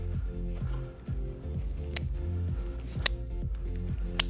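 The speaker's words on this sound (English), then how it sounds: "You'll see that I am giving this two snips." Scissors snip through fresh flower stems while arranging blooms for a beach-themed children's party, sharp clicking cuts repeating close up over a steady musical background.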